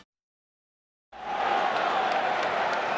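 A sellout Chicago Stadium crowd at a 1993 NBA Finals Bulls versus Suns game roars in after a second of silence, holding a loud, steady, far-spread wash of voices.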